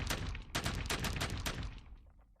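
Rifle gunfire exchange in a historical Mexican imperial army setting: rapid overlapping cracks of many shots in a dense volley for about two seconds, then thinning out and fading.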